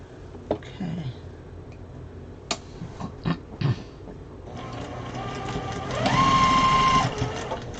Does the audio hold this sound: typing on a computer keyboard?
no